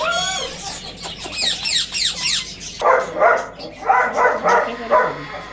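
A dog barks in a rhythmic series of close, loud barks, following a stretch of squawking chicken-like calls.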